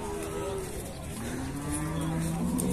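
Cattle lowing with drawn-out moos at a livestock fair in Limoeiro, Pernambuco, several animals calling over a dense, noisy crowd background with people talking.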